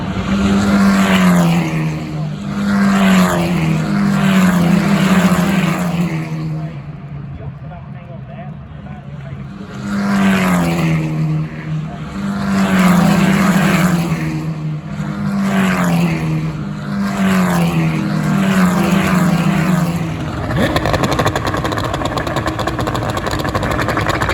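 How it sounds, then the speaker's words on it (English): Rocket F4 race cars in the FIA-certified championship's final race at Brands Hatch, engines droning loudly and continuously, rising and falling in pitch as the cars sweep past in repeated waves. "Joseph Lowe up towards the line, the final race in the Rocket F4 for the championship, certified by FIA here at Brown Hatch"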